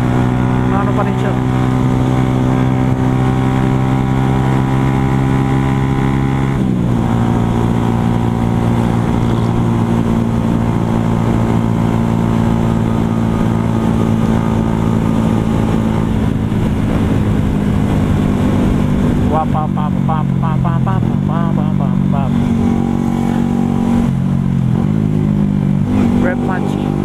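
Motorcycle engine held at high revs while riding in fifth gear, with rev-matched clutchless shifts: a loud, close, continuous drone whose pitch steps and dips at gear changes, rougher and warbling near the end, with a voice over it.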